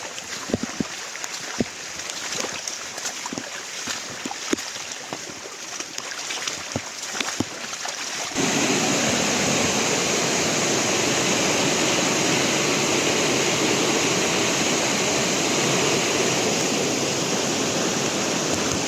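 Rain falls outside during a forest trek from Panhala to Pawankhind, starting with scattered drips and taps, then switching to a loud, steady, even hiss of heavy downpour that carries on unbroken.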